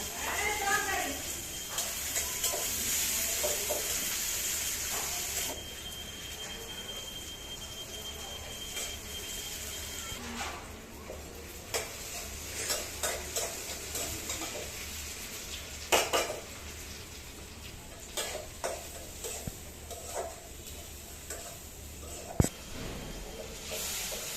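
Dal with tomato cooking in a wok on an electric stove, with clinks of a metal spoon stirring against the pan and a soft frying sizzle, interrupted by scattered knocks, under frequent talk in a home kitchen.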